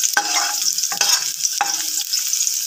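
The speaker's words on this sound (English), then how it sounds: "Then we mix it carefully so that the garlic will be golden brown." Garlic fries in a pan with a steady bright sizzle while a utensil scrapes and stirs it in a few distinct strokes, close up and with no talking.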